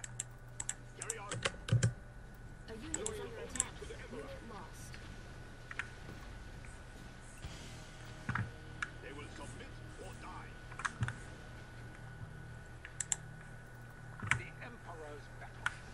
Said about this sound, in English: All I can hear is click click. Yep. Frantic clicking.